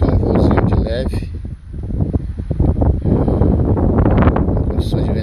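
Strong wind roars and buffets a DJI Mavic Mini drone in flight, a loud broadband rush with gusty swells and microphone rumble, while someone talks over it throughout.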